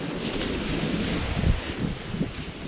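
Wind gusts across a beach on a windy Guernsey night, a continuous rushing and buffeting with faint surf beneath, moderately quiet and with no talk.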